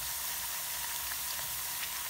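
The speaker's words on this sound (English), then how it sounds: "Just take a few seconds for them to fry." Potato chips frying in hot oil at home, a steady soft sizzle with faint crackling pops running throughout, heard alone at low level.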